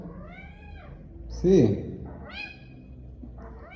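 A cat meows several times indoors, with rising and falling cries close by. A louder, rougher yowl sits in the middle, and a person talks over and between the calls.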